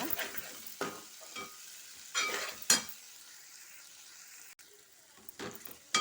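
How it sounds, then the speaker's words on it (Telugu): Finely chopped tomato fries in a pan for a paneer tomato curry, a soft steady sizzle broken by several scraping stirs of a spoon, fairly quiet and close, with no talking. "ఒక టమాటా అది వేసేసుకోండి సన్నగా తరిగి పెట్టుకుని మంచిగా వేయించాలండి"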